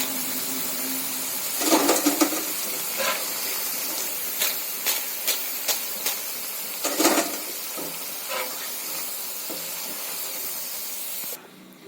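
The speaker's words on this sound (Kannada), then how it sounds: "ಈ ಥರ ಕ್ರಿಸ್ಪಿಯಾಗಿ ಡೀಪ್ ಫ್ರೈ ಮಾಡ್ಕೊಳ್ಬೇಕು" Cauliflower florets deep-frying in hot oil give a steady, close hiss and sizzle, with bursts of crackling spitting as pieces are added or moved.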